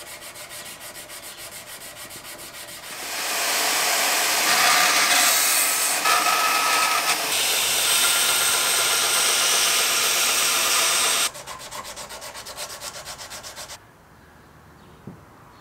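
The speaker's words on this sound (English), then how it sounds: "I'm going to hand sand it probably up to 320 grit" Loud, steady rasping of sandpaper worked by hand along a steel knife blade at around 180 grit, rising in intensity after a quieter start, then thinning to lighter rhythmic strokes before fading out.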